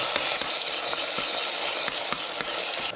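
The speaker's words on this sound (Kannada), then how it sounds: "ಈಗ ನಾವು ಹಸಿ ಶುಂಠಿ ಪೇಸ್ಟ್ ಹಾಕ್ತೀನಿ ನಾನು. ಇದು ಸಹ ಹಸಿ ವಾಸನೆ ಹೋಗಬೇಕು." Raw ginger paste frying in hot oil in a pan while a sprouts pulao is cooked, giving a steady close sizzle with faint periodic scrapes of stirring throughout.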